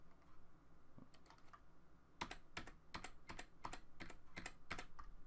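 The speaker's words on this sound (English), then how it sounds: "So every time I click the left arrow key" Arrow keys on a computer keyboard clicked one after another in a quiet room, a light irregular series of about a dozen crisp, close taps growing steadier toward the end.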